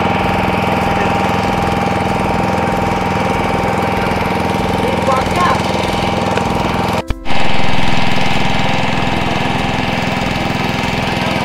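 Motorboat engine droning steadily during a river boat ride near Diviseema, loud and close, a constant throbbing hum that cuts out for a split second midway before resuming.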